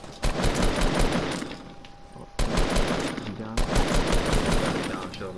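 Rapid automatic gunfire in a Fortnite battle royale match, loud and sustained in several long bursts separated by brief pauses, with some faint voices mixed underneath.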